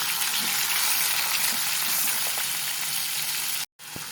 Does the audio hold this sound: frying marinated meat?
yes